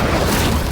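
A brief, dense whoosh-boom of the Incendio fire spell in Hogwarts Legacy, a loud single burst of roaring flame under a second long with no voice.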